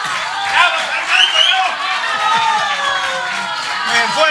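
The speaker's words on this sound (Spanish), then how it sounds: "Un fuerte ese aplauso para Beto Badía" A television studio audience on a 1993 Argentine variety show claps and cheers loudly for a guest, with shouts and whoops rising over dense, close applause throughout.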